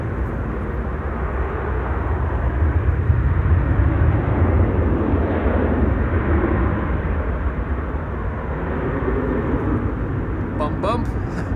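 A Boeing Dreamliner airliner rolls for takeoff at Amsterdam Schiphol, its engines a steady, broad roar at a distance that swells slightly in the middle.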